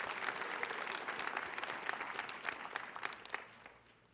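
A pinning-ceremony audience claps steadily and loudly, the dense applause holding throughout before tapering off at the end.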